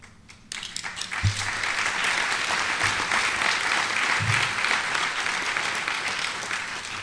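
A crowd bursts into sustained applause during an attorney general's speech on youth nicotine addiction, loud and dense after a brief quiet opening, with a few low thumps in the mix.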